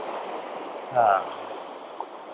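A mountain stream in South Korea flows with a steady, broad rushing wash that holds at an even level throughout, briefly overlaid by a short tonal vocal sound near the middle.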